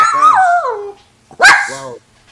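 A dog with upright, pricked ears gives two loud, close, whining barks separated by a short pause.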